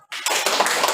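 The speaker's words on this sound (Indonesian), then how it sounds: "Oke, tepuk tangan." A classroom group breaks into brief applause, a short burst of dense close clapping lasting under a second after a quiet start.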